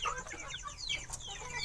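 Chickens let down from their coop to roam freely cluck and chatter continuously at close range, several birds overlapping in busy, lively calls with no talking.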